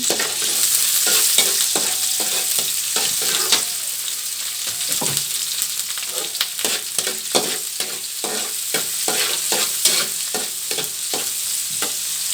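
Garlic sizzles and fries steadily in a hot pan for a quick pancit, with a bright continuous crackle broken by frequent stirring scrapes throughout, no talking.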